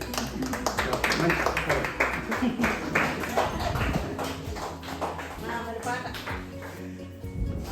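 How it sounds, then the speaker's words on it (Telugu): Hands clap together in a loose, rapid rhythm at a Telugu housewarming gathering in Gopalapuram, a bright patter of many palms continuing under a voice that keeps speaking. "చప్పట్లు కొట్టండి"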